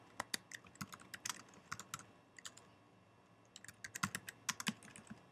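Fast, faint clicking of keys on a computer keyboard comes in quick irregular bursts, with a short quiet pause midway before typing resumes.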